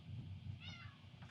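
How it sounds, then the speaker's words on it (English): A house cat gives a single short meow, faint and somewhat distant, over a low background hum. "Cats."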